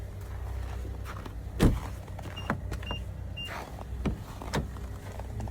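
Electric power windows on a 2024 Nissan Rogue whir up and down inside the car cabin, moderately close, mixed with interior clicks and handling noises.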